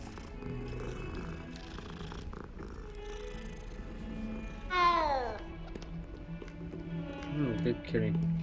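A cat in Hogwarts Legacy gives a clear, rising meow midway through, then a few shorter mews, over a low purr and quiet game ambience.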